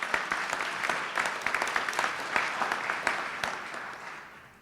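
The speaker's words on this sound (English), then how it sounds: "You can applaud for that." Audience applause at a public event announcing a $100M investment in West Louisville, a steady wash of many hands clapping for several seconds, fairly loud and close, with no talking over it.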